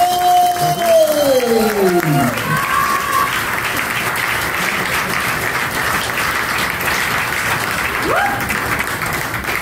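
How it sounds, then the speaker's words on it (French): Loud, sustained applause from an awards ceremony audience fills the room, with a few whoops and rising whistles over the steady clapping. "sous vos applaudissements"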